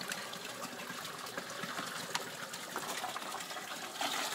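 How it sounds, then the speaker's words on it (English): Water gushes steadily out of a 5 gallon water jug used as an aquaponics clarifier, a continuous splashing drain flow heard close up with no talking. "because we just emptied that water out."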